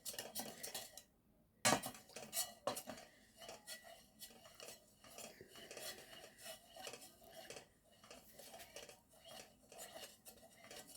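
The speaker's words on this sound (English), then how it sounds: "And then mix it together." Homemade Vaseline mixture with paraffin oil being stirred by hand, a utensil scraping and clinking against the container in quick, irregular strokes, close and clear with no talking.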